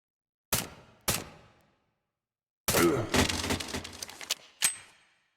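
Gunfire in a horror video game: two sharp single shots, a pause, then a longer rattling automatic burst with echoing tails, and one last crack, all loud against silence.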